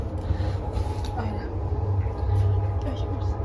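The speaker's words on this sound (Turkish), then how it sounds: "Böyle trenimiz gidiyor şu an." A passenger train rolling along with a steady low rumble and rattle, close by, with voices faintly over it.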